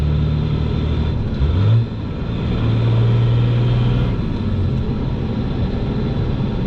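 A hotshot pickup truck with an NV5600 manual transmission drives along with a loud steady engine drone inside the cab, the tone dropping and rising as it shifts gears.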